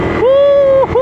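A Honda ADV 160 scooter revs hard on a rough, unpaved uphill track, a loud, close engine whine that climbs, holds a steady high pitch, drops briefly and rises again.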